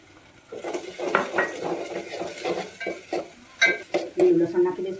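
Onions go into hot oil in a pan for manchow soup with garlic and greens, giving a busy, close sizzle and clattering utensil scrapes in quick bursts that grow louder toward the end.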